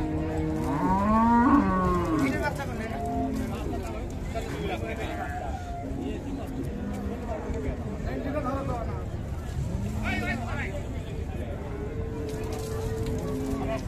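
Friesian cows low at a busy cattle market, with one long, loud moo early on followed by scattered fainter calls over steady crowd chatter and background noise.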